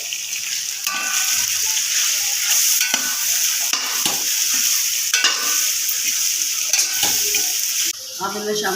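Gram flour (besan) stirred in a hot frying pan for an okra dish: a loud, hissing sizzle broken by repeated scraping strokes of a spoon, with brief talk mixed in.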